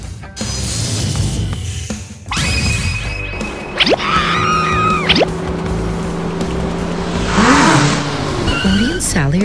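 A cartoon race car, Flash's car, revs and accelerates with whooshing, rising engine tones, sharp effects and pitch sweeps, loud and close amid other racing sounds.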